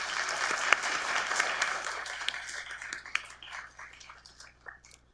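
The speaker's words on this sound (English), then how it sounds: "Graduates, please join me in giving them a well-deserved round of applause." Audience at the Medical College of Wisconsin pharmacy school hooding and awards ceremony giving a round of applause, a wash of many hands clapping that is fullest at first and thins into scattered claps as it dies away.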